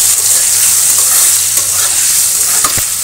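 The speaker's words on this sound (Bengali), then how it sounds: "সয়াবিনটা আমি তেলে ভাজি করে নেব" Soya chunks fry in hot oil with a loud, steady sizzle, joined near the end by a couple of sharp stirring scrapes against the pan.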